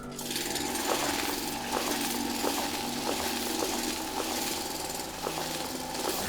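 Continuous mechanical drilling in the factory-building video game Foundry, a steady grinding machine drone with faint periodic clicks, loud and close throughout, with no talking.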